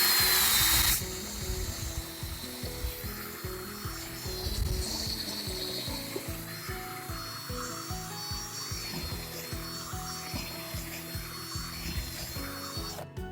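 A power drill with an extended bit bores deep into a wooden post with a steady, rhythmic chugging under a high motor whine, close and continuous for the whole stretch.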